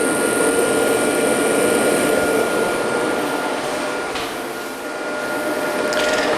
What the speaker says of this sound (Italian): vediamo se riusciamo a fare andare anche un asciugacapelli con una cosa così piccolina